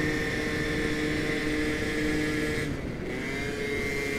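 Motor scooter engine droning steadily while riding through town bends, a continuous close, loud hum that dips briefly before picking back up.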